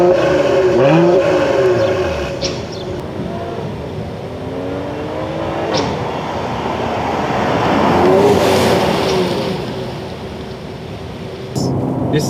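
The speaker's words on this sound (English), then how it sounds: "This engine really sounds amazing, man. It's a V6 engine" A 2017 Mercedes-Benz GLE 450 AMG with a turbocharged V6 accelerates in sports mode, its loud, steady engine drone climbing in pitch through the gears over continuous road and wind roar, with no talking.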